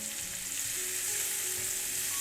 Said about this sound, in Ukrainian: Перекладаємо цибульку на сковорідку, де смажилося м'ясо. Смажимо на середньому вогні весь час помішуючи.